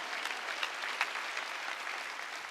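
A church congregation claps together during a Korean sermon, a dense, steady patter of many hands in a large room, with no clear talk over it.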